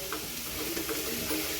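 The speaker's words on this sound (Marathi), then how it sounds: "याला छान असं मिक्स करून घ्यायचं आहे पूर्ण फोडणीमध्ये" Chopped tomatoes are stirred into a hot tempering for tomato chutney, giving a soft, close sizzle with a few light scraping touches from the spoon over a short stretch.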